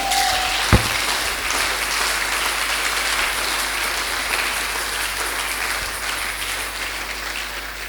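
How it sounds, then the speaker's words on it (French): A church congregation claps and cheers loudly in worship, producing a dense, steady wash of applause that continues unbroken throughout. "Nous voulons rendre grâce en acclamant très très fort notre Dieu."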